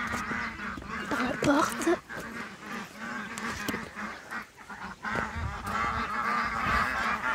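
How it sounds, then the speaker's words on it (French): Geese and Indian Runner ducks, along with Blanc de l'Allier ducks, honk and quack in a chorus of repeated calls on a poultry farm, fairly close and continuous, with a person speaking briefly. "Il y a du coureur indien, du blanc de l'Allier et des oies."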